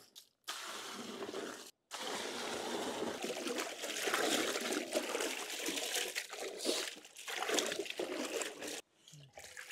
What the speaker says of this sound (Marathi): आता स्वच्छ पाण्याने डांगर धुवून घेऊ आपण